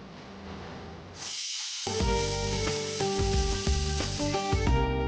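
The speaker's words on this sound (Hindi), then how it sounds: "ये कुकर ने ना एकदम गलत टाइम पे सीटी बजा के मोमेंट खराब कर।" A pressure cooker whistle hisses steadily at fairly close range, its sustained sizzling rush running under background music, with no talking.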